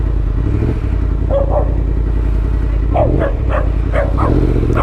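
A dog barks several times at close range, short sharp yaps in a couple of bursts over a steady motor hum.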